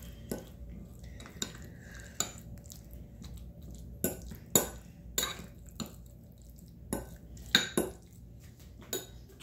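A spoon clinks and scrapes against a bowl while tuna is mixed with sesame oil and soy sauce, sharp irregular taps standing out over a quiet, soft squishing background.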